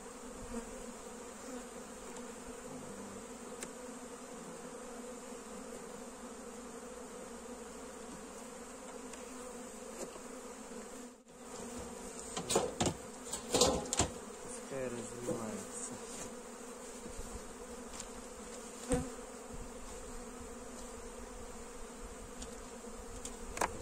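Honey bees buzz steadily around hives at an apiary during spring work on a colony, a dense continuous drone close by, with a few brief clattering knocks of hive handling around the middle.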